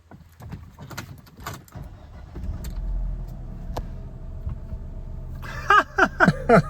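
A Mercedes SLK engine cranks and catches, then settles into a low steady idle, with a few sharp clicks and clunks over the hum.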